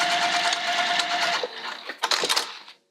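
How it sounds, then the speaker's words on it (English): A sewing machine stitches through vinyl for a handmade bag, a loud steady mechanical whir that runs continuously, then slows into a few choppy bursts before stopping. "Now I'm gonna sew again just inside it, not on top, because I don't wanna tear the vinyl."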